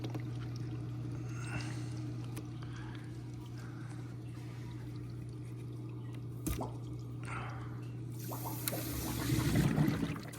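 Water trickles and drips through newly opened aquarium valves under a steady low hum, growing into a louder gurgling rush near the end.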